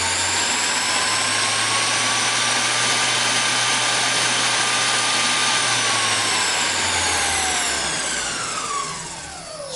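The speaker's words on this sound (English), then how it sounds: "If we take out the emergency stop, we can start our spindle, and you can see in here just how well this machine is balanced." A Linmac MD-50BV drill mill spindle runs steadily on its own, giving a loud continuous whine with a high tone that rises and then falls away toward the end as the spindle slows.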